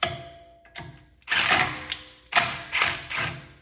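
Ratchet wrench working bolts back and forth on an RMAX side-by-side, bursts of rapid close mechanical clicking separated by short pauses, loud and near with no voices.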